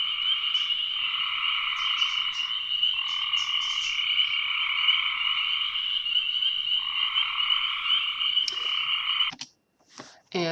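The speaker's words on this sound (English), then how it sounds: "I hear gray tree frogs." Gray tree frogs and spring peepers calling together in a steady multi-species frog chorus, loud continuous trilling throughout, ending with a few abrupt bursts near the close.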